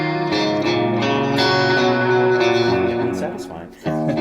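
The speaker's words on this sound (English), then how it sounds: "I'm gonna hit mod chorus echo." An electric guitar run through a modulated chorus and echo effect plays shimmering, swirling chords that ring out, then briefly drop away before a new strum.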